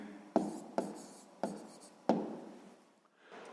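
A pen writes answers in a school notebook, with four distinct strokes tapping down and scratching across paper, close and quiet with no talking.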